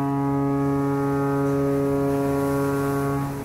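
A lighthouse foghorn sounds one long, loud, steady blast with a deep, rich tone that holds for about three seconds before cutting off.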